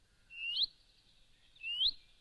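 Two short high whistled song phrases of a willow warbler, each a brief sweet rising-falling trill, evenly spaced about a second apart against a quiet background.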